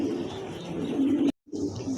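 Pigeons in a pet-sale setting coo in low, steady throaty tones close by, with one brief silent gap before the soft cooing resumes.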